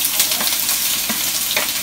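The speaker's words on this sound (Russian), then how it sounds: "Антош, сейчас на предварительно разогретую с маслом сковородку мы будем обжаривать лук" Onions frying in oil in a preheated pan, a close, continuous crackling sizzle with brief stirring scrapes and no speech.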